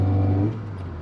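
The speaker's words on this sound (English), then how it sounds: "And let's do another brake test" A Lancia A112 Abarth driving during a brake test, its engine a steady low hum heard from inside that drops and quiets about halfway through as the car slows.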